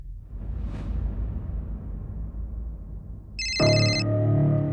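Low indoor rumble with a faint swoosh, then an electronic telephone ringtone cuts in loudly and keeps ringing unanswered through the end, with no voices.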